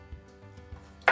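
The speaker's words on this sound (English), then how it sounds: "So we're gonna start by chopping this" A kitchen knife chops a giant clove of garlic on a board, three soft low taps spaced evenly, then one sharper, brighter strike at the end, close and quiet.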